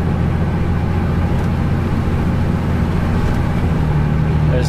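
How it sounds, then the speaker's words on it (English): A vehicle with a billet valve body and 4th-gen tuning upshifts into fourth gear: a loud, steady engine and road drone with a subtle change in tone partway through, no voices. "I think that was third gear, and now we're gonna hit fourth gear here."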